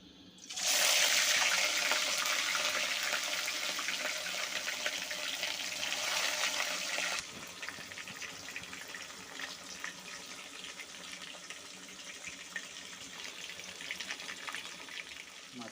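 Fish is dropped into hot oil in a home kitchen pan, setting off a loud, dense sizzle that bursts in suddenly and then continues, gradually easing into a steadier, quieter frying hiss, with no talking.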